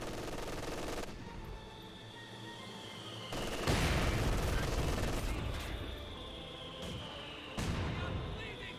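Mortar and gunfire in a Company of Heroes match, with a continuous rattle of distant shots and several sharp blasts rising from the noise, under a faint commentator voice.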